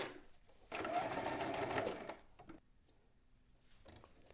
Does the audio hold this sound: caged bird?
no